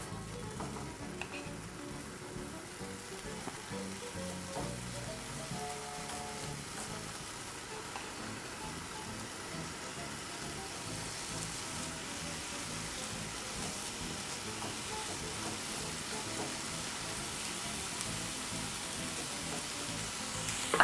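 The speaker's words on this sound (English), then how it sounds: "begin to place your bacon slices on the pan, making sure to give enough room to cook all the bacon pieces without them touching each other" Bacon slices fry steadily in a pan over medium-low heat, a continuous close sizzle and crackle with small pops that keeps going without pause.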